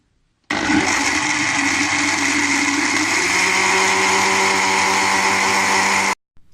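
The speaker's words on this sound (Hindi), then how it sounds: "अब ग्राइंडर को चला देंगे।" A mixer grinder whirs at full speed grinding chutney, a loud steady motor whine starting abruptly and running for several seconds, its pitch shifting slightly midway before it stops suddenly.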